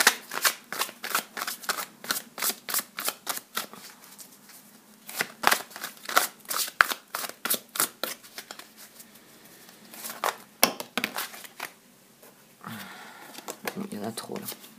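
Oracle cards are shuffled in a rapid run of crisp riffling flutters, close and steady, then pause and resume in a few shorter bursts.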